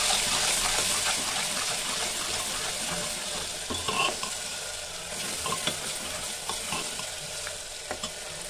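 Onions fry in a pan with a steady, loud sizzle while a spoon stirs them, adding soft scraping and clinking taps throughout.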